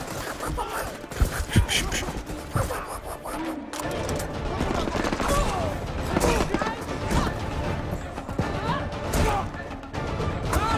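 A voice imitates gunfire for a Black Panther action scene, spitting out rapid bursts of mouth-made shots and crashes, close and fairly loud, with rough breathy noises between volleys.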